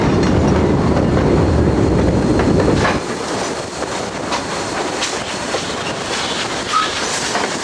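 A train rolls by on the CSX main line, loud and close, with a heavy rumble and the clatter of railcar wheels. It eases into a lighter, steady clickety-clack with faint squeals.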